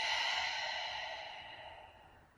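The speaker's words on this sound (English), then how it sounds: "Exhale from the mouth." A single soft exhale through the mouth during pranayama breathing practice, close and gentle, fading steadily over about two seconds.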